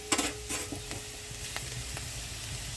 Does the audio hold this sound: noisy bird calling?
no